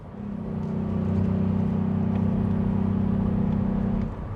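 A VW up! GTI hot hatch drives with a steady engine drone that swells and holds under load, then eases off near the end as a gear change comes.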